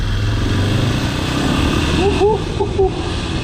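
A Suzuki DR500 Dakar single-cylinder motorcycle riding on asphalt, its engine thumping low and steady under wind noise, with short rising whines as it pulls away.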